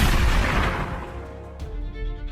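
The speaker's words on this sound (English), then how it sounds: "he was suddenly and unexpectedly struck from behind by multiple gunshots" A loud boom-like gunshot burst at the start, decaying into a fading rumble and echo, followed by quieter low thumps.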